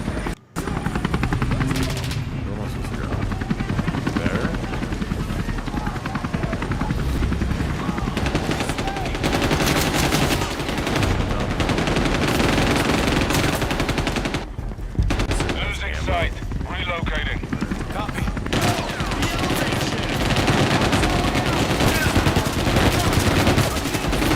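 Dense automatic gunfire from the online shooter CrossFireX rattles in rapid bursts almost nonstop, with a helicopter's rotor drone and other battle noise layered underneath and a brief lull in the middle.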